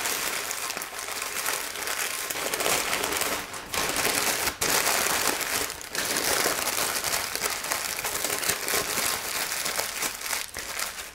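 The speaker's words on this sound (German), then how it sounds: "Dafür knülle ich dieses Papier ganz feste und kompakt zusammen." Newspaper is crushed by hand into a tight, compact egg shape, giving continuous close crackling and crinkling for about eleven seconds with brief pauses.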